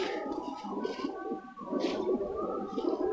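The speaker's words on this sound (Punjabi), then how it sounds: "ਵੀਰ ਜੀ ਇਹ ਇੱਕ ਕਬੂਤਰੀ ਹੈਗੀ ਆ" Black-eyed female racing pigeon coos steadily at close range, a low murmuring call running throughout with a brief dip midway and no one talking.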